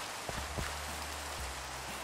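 Rain in Minecraft 1.18 Java Edition, a dense, even hiss of falling drops that runs throughout, with a few soft low thuds underneath.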